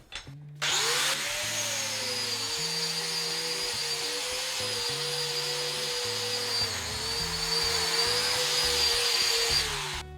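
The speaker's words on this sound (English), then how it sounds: "We're using the paint removing discs and grinder." An angle grinder fitted with paint-removing discs works a concrete floor. After a short start, a loud, steady high-pitched whine with a rough grinding hiss runs unbroken for about nine seconds, with no talk.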